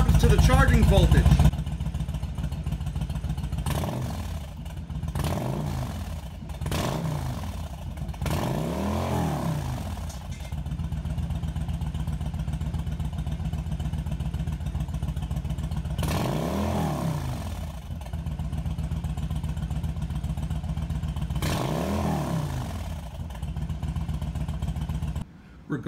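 A Yamaha V-Star 1100 motorcycle engine idles and is repeatedly revved with throttle blips, each rise and fall in pitch standing out over a steady mechanical clatter, while someone talks throughout.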